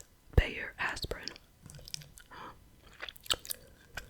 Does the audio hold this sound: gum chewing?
yes